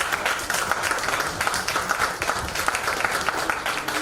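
Audience applause at a business forum chapter launch in Vijayawada, steady dense clapping filling the whole stretch at moderate loudness with no talk over it.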